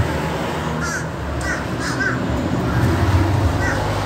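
Crows caw repeatedly in short bursts while feeding on meat and bread outdoors in the United States, the calls fairly close over steady background hum.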